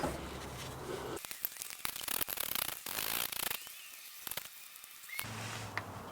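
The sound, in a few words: removing oil pan bolts on a Jeep JK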